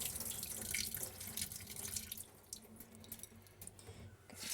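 Tap water pours and splashes into a container of rice being rinsed, strong at first then easing to a softer trickle and swishing, close by and without speech.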